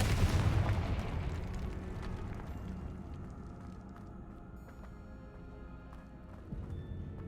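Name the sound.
Confringo fire explosion spell in the video game Hogwarts Legacy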